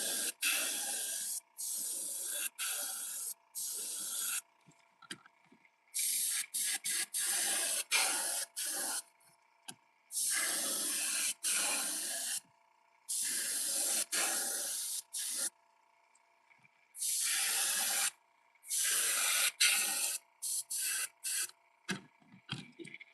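An airbrush sprays paint onto fishing lures in repeated hissing bursts of a second or two each, separated by short silent gaps, close and fairly loud with no voices.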